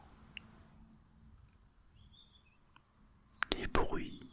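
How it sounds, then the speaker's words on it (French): Birds singing in a forest, with scattered thin chirps and whistles at middle distance over a soft background, and a whispering voice joining toward the end. "Tu peux encore entendre le son des oiseaux"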